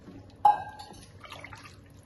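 Water is poured into a pot of soaking rice for a coconut milk rice dish, a short, quiet splash that starts abruptly and then trails off into faint trickling.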